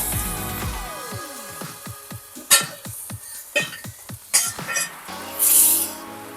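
Semi-cooked prawns for a ghee roast are dropped into a hot pan and stirred, with a run of clinks and knocks against the metal, then a burst of loud close sizzling at the end.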